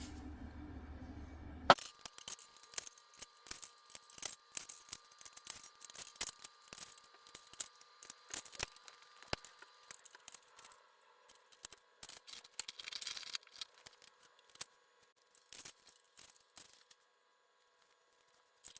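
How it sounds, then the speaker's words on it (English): Seven exterior screws come out of the casing of a stackable Samsung dryer that is not heating, giving faint, scattered metallic clicks and light rattles over a quiet background. "Those screws have been removed."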